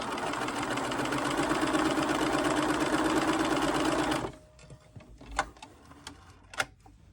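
A sewing machine stitching lines across quilt fabric runs fast and loud for about four seconds, a dense rapid whir, then stops, leaving a few isolated clicks and soft handling taps.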